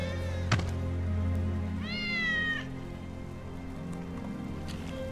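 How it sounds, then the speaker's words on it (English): Wedge's cat in the video game Final Fantasy 7 Remake gives a single clear, drawn-out meow over a soft rain-like game ambience with low background hum. "That's Wedge's cat."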